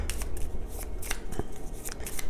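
Clue: Dungeons and Dragons Edition cards shuffled by hand close up, a quick series of papery riffles and flicks.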